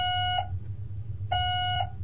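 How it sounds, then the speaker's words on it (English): A loud, sustained electronic tone sounds, stops, then repeats once: a long beep, a pause, and a second long beep over low background hum. "One beep for yes, two beeps for no."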